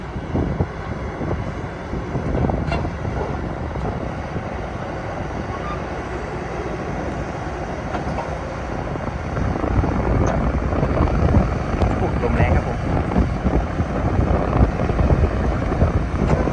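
A big ten-wheel truck comes into a village in place of a trailer, its engine a steady low rumble mixed with wind buffeting, growing louder and closer about halfway through.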